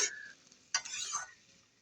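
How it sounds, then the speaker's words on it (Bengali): Sliced pointed gourd tossed into a hot wok, a brief sizzle and scrape at the start, then a second louder burst of frying hiss that fades into a quieter steady crackle. "পটলটা কড়াইয়ের মধ্যে দিয়ে দিছি।"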